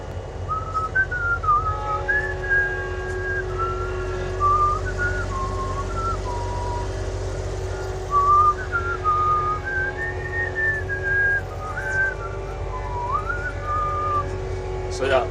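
A person whistles a song at close range, a clear melodic line of rising and falling notes that runs steadily across the clip over a low background hum.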